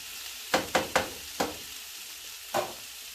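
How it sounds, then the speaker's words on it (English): Mushrooms and ginger fry in a pan with a soft, low background sizzle, broken by five sharp crackling pops or stirring scrapes, four close together early on and one later, with no one talking. "I'm just listening to the nice crackles of the frying pan."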